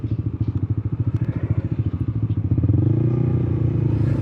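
Motorcycles on a road at night chug close by with a rapid, pulsing engine beat, then the throb smooths into a steadier, louder drone as revs rise.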